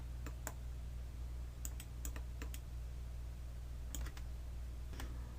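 Computer keyboard keys pressed during Blender 3D software work, giving a sparse run of sharp, close clicks in small clusters over a steady low room hum.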